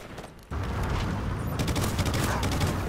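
Dense gunfire and airstrike blasts from Call of Duty Ghosts erupt after a brief quieter lead-in, a loud continuous barrage of rapid shots and rumbling explosions with faint voices underneath.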